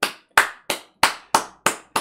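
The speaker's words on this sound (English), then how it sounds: "Everybody give him a round of applause." Seven sharp, separate hand claps in a slow, slightly uneven rhythm, each crisp and close with a short decay into silence, no talking.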